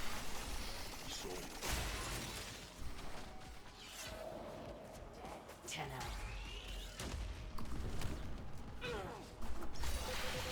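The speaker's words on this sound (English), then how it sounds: "Hear that Magfo's cannon?" Cannon fire from an enemy in the video game Warframe sounds as a series of heavy booms and crashes among mechanical clanks and rumbling game effects, loud and continuous, with faint voices in the background.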